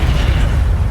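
A Levioso spell is cast in Hogwarts Legacy, a loud, dense burst of low magical rumble and whoosh that fills the whole moment without pause.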